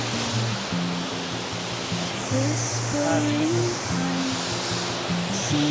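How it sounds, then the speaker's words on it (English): A waterfall on the Mntentu river along the Transkei coast rushes in a broad, continuous roar, with a low humming drone and shifting tones layered over the steady water noise. "I'm just pleased that I found the waterfall now."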